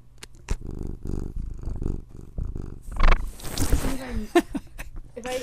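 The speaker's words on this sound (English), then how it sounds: "You can hear my cat purring." Close, rhythmic cat purring in soft pulsing waves, with some rustling and handling noise near the microphone partway through.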